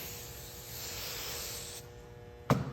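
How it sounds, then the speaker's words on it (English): Hairspray sprayed onto flattened hair, a steady close aerosol hiss lasting nearly two seconds, followed by a brief sharp knock. "you'll want to spray as much hairspray as you can tolerate."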